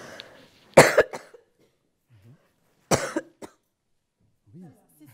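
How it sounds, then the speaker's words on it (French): Two sharp, close coughs from a woman with an allergy during a talk, spaced a couple of seconds apart, with brief trailing throat sounds and near silence between. "à chaque fois, j'ai une petite toux"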